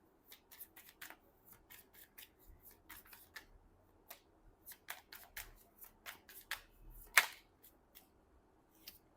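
Tarot cards being shuffled and drawn by hand, a series of soft papery riffles and slides with quick snaps, close and quiet, with no one talking.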